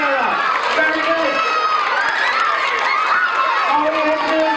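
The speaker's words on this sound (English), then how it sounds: "Can I have a round of applause for Sierra, who is absolutely right?" A room of children claps and cheers in a dense, continuous burst with excited high-pitched shouting, during a school science presentation.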